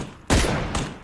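Two loud, close gunshots in the video game PUBG, a sharp crack followed by a shorter second shot about half a second later, with nobody talking.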